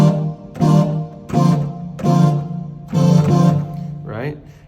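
A synthesized brass chord sounds in several sustained, punchy stabs with a bright buzzy tone, followed by a short falling note at the end.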